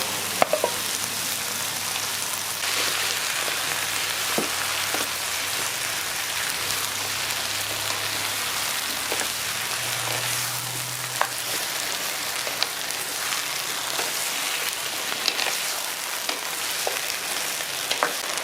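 Green plantain and eddoes fry in a pan with hot pepper, giving a steady close sizzle and crackle with occasional sharp pops and stirring scrapes, no talking.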